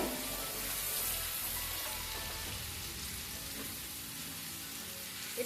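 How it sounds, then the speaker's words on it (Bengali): Ginger and garlic paste frying in hot oil in a pan while being stirred, giving a steady, close, fairly loud sizzle that runs unbroken with no voices. "এক চামচ আদা বাটা এক চামচ রসুন বাটা সাথে ভালো করে নাড়বো"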